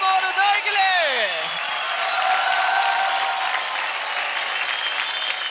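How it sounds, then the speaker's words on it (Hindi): Studio audience applause on a televised children's dance competition show, a loud steady wash of clapping and cheering that fills the whole stretch, with a host's voice and sliding musical tones over the start. "जोरदार तालियां हो जाए ओम और उदय के लिए।"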